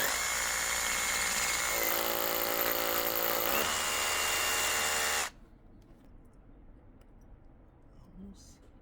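A brushless heavy-duty rotary hammer drill bores into brick with a loud, steady grinding roar for about five seconds, then cuts off abruptly into quiet room tone.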